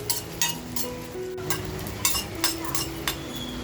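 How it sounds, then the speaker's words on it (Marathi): Hot green chilies roast in a kadhai over a full flame, a soft sizzle under repeated clinks and scrapes of a spatula stirring against the metal pan at an uneven rhythm. "कढईमध्ये बघा अगोदर मिरच्या टाकून घेते. गॅसची फ्लेम बघा मी फुल ठेवली आहे"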